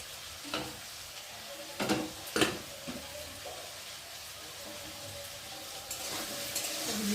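Potatoes frying in a pan while a banana-flower dish is prepared, giving a steady low sizzle with a few louder scraping stirs early on and the frying swelling slightly toward the end, close by with no talk.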